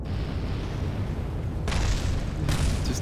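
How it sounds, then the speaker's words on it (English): Explosions in a space video game as a landing craft is tested, a deep continuous rumble with two sharper bursts of crackling debris near the end. "Just ignore all the stuff exploding."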